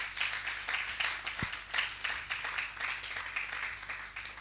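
An audience claps in a dense, continuous patter of applause, steady and moderately loud throughout, with a single low thump partway through.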